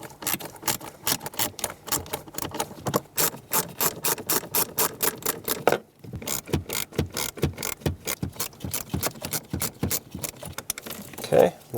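Screwdriver backing out the screws that hold a blend door actuator on a Chevrolet Equinox, a rapid run of close, sharp ratcheting clicks with a brief pause midway.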